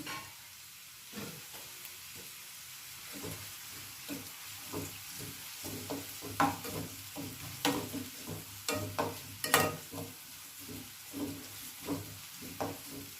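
Chopped ginger, garlic and onion frying in a pan while being stirred, soft sizzling broken by repeated scraping and clattering strokes of the spoon, close and fairly quiet, no talk.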